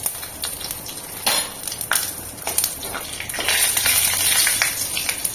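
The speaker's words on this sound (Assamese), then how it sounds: "একেখিনি তেলতে মই এতিয়া জিৰা কেইটামান দি দিছোঁ, তেজপাত দিছোঁ, ইলাচি আৰু ডালচেনি দুবুকা দি দিছোঁ।" Cumin, bay leaf, cardamom and cinnamon sizzle in hot oil left from frying potatoes for soya kofta, a crackling hiss that swells louder partway through with occasional clinks of a utensil.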